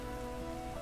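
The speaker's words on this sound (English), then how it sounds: "Oh, now it's raining." Rain in the Hundred Days winemaking game, a steady patter on surfaces with a low ambient bed underneath and faint tonal music.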